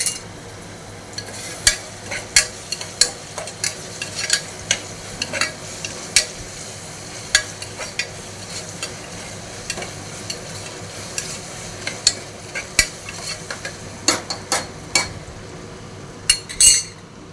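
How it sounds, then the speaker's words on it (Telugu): Rice gruel (ganji) cooking in a pot, dominated by repeated close metal spoon strokes and scrapes against the pot over a low bubbling hiss, irregular and loud throughout with no talking. "అన్నం గంజి ఇది చేస్తున్నాను."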